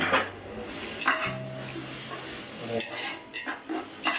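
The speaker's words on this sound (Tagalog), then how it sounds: "So pagkagisa ng sibuyas, isunod natin lagay yung bawang" Garlic goes into a pan of sautéed onions for pancit bihon and canton guisado, with a spatula clanking and scraping against the pan, light sizzling underneath and intermittent speech.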